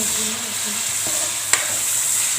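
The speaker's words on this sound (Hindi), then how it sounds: "झींगे को हम मिक्स करेंगे इस तरह," Prawn karahi curry is stirred in a pan, with a soft, continuous sizzle, a few faint scraping strokes and one sharp clack of the utensil midway, with no speech.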